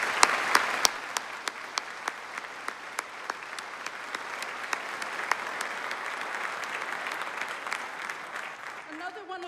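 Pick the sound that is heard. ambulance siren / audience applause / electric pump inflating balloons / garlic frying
audience applause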